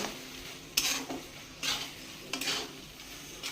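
Carrot halwa is stirred in a pot, giving three distinct scraping strokes of a spoon against the metal over a low, steady sizzle, close and fairly quiet, with no voices.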